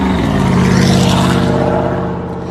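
A loud truck motor passes close by, a continuous heavy engine roar with a strong low rumble that swells and then fades slightly toward the end.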